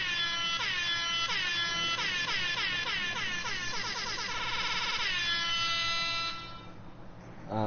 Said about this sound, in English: Can I air horn you real quick?